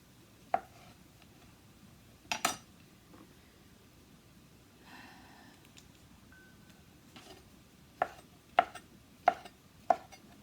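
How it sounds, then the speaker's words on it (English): A knife chops mushrooms on a cutting board while making soup in a home kitchen, giving sparse, sharp, close thuds, some in quick pairs, separated by quiet pauses. "come back when I have finished chopping all these mushrooms"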